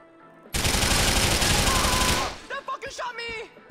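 Sustained automatic gunfire from GTA 4 hammers loudly for nearly two seconds in a dense continuous burst, then cuts off into scattered shorter sounds and shouting voices.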